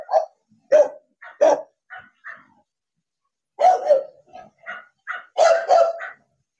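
Dog barking near a two-storey house carport in Tanza, Cavite, two clusters of sharp repeated barks separated by a silent gap, clear and close against a quiet background.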